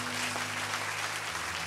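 Applause from a church congregation, a continuous dense wash of clapping and acclaim filling the whole short stretch.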